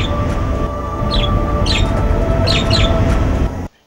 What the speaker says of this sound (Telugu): కాంక్రీట్ జంగిల్లో వినిపించని పక్షుల కిలకిలలు పలకరిస్తాయి